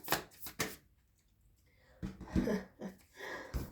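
A deck of tarot-style cards shuffled in hand, a few quick riffling bursts at the start and again after a short pause, close and fairly soft.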